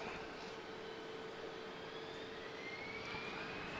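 An Airbus A320neo jet at Lisbon Airport, heard as a steady, fairly faint roar with a slowly rising whine, constant and unbroken with no talk.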